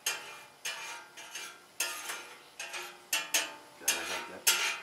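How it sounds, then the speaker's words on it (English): Food being worked in a frying pan alongside chuck steak and fried rice cooking, with regular scraping and clattering strokes about every half second over a faint sizzle, close and moderately loud. "Get that fry going."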